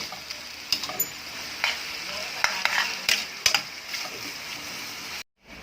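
Chicken for tinola sautéing in a pot, a soft continuous sizzle broken by several sharp clanks and scrapes of a ladle being stirred, close up, with no talk, ending in a brief silence.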